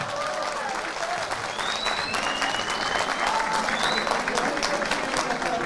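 Crowd applause at a political rally in Turkey, breaking out after a promise about prices. Dense, steady clapping fills the whole stretch with a loud cheering crowd and a few whistles mixed in.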